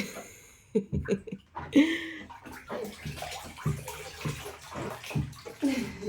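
A baby splashes and kicks in bath water, sloshing in irregular bursts, with soft voice sounds and a little laughter mixed in close by.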